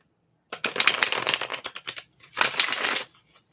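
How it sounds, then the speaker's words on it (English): Two bursts of cards being shuffled, a longer riffle followed by a shorter one, crisp and close with quiet pauses. "I'm going to shuffle the cards"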